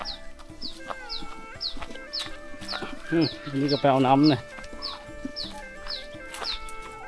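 Chickens cluck in short repeated calls throughout, with a louder bleating animal cry in the middle, while a person talks over the farmyard sounds in a rural Lao village.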